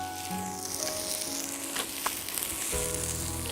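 Capsicum and asparagus sauté in olive oil with onion, giving a steady, close crackling sizzle that runs throughout, with brief stirring scrapes partway through.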